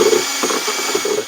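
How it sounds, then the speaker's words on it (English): Power drill spinning a paint stick to mix Prodiamine 65 WD lawn herbicide in a container, a loud close whir with uneven grinding pulses, short and without talk. "Go ahead and reattach it to my drill."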